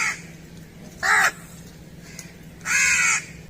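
A crow gives two loud, harsh caws about a second and a half apart, clear and fairly close over a quiet background with a faint low hum.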